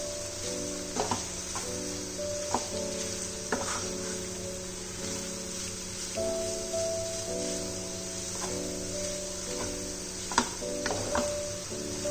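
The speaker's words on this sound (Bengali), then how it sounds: "আমি এবার ডেজিকেটেড কোকোনাটটা এর মধ্যে একটু একটু করে মিশিয়ে নেব" Desiccated coconut being stirred into snake gourd curry in a pan, with a steady low sizzle and intermittent scraping stirs over about twelve seconds, no talking.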